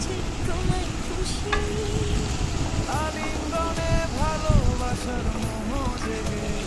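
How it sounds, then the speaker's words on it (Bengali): Cauliflower frying with spices in a pan gives a steady, close sizzle under brief scraping and stirring noises, with faint tonal squeaks in the middle. "কষানো মশলার সাথে দিয়ে দিলাম ফুলকপি। এবার নেড়ে ছেড়ে সবজিটাকে মশলার সাথে মিশিয়ে নেব।"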